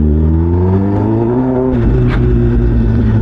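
A Kawasaki ZX-10R sports motorcycle engine drones and revs loudly close by, its pitch rising and falling, with a brief sharp rattle partway through.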